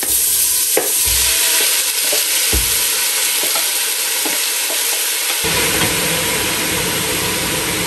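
Sugar caramelizing over high heat in a hot pan for red cabbage, a loud continuous sizzle with occasional scraping knocks of stirring, close and steady throughout.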